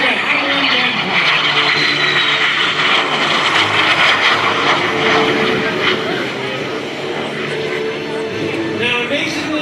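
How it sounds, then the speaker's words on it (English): De Havilland Vampire jet aircraft flying at an airshow, a loud continuous jet roar and whine passing nearby, with an announcer talking over the PA throughout. "From the right, ladies and gentlemen, Jerry Conley, the DeHavilland Vampire."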